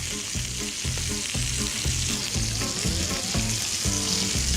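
Sausage sears in a hot pan, a loud, steady sizzle and crackle close up, with a rhythmic scraping pattern throughout as it is shifted about, no talking.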